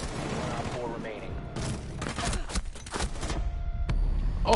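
Gunfire in Rainbow Six Siege, a rapid fusillade of sharp cracks and bursts mixed with game effects, while a voice talks over it.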